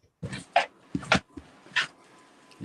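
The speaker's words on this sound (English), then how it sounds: "So it's my dog" A dog whimpers and yips in short bursts, several close, clear vocal cries with brief pauses between them, no talk over them.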